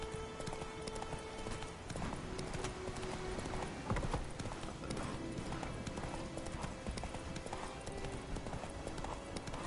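Horse hooves clip-clop steadily at an even walking rhythm while riding in The Witcher 3, joined by dense ambient game sound throughout, with occasional faint speech.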